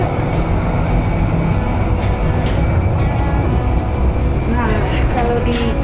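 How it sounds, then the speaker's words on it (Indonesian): Steady loud rumble and rattle inside a moving passenger train bound for Dordrecht, with continuous rolling noise throughout and some faint voices in the carriage. "Oke, sekarang kita berada di kereta menuju ke Dordrecht."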